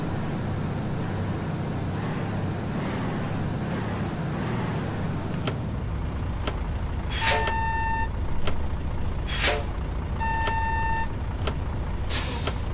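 A bus reversing in the game Bus Driver, with low engine rumble and a hiss, followed by several evenly spaced high electronic reversing beeps in a steady repeating pattern.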